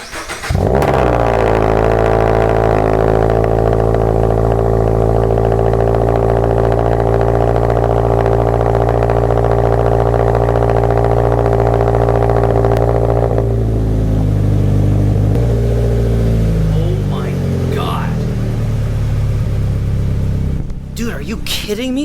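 A 2022 Subaru BRZ with a new MAPerformance exhaust and aftermarket JDL front pipe revs loudly and steadily up close, its deep droning note holding for about thirteen seconds before settling into a rougher, falling idle.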